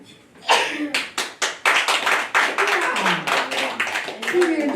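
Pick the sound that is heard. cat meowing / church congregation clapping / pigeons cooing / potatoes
church congregation clapping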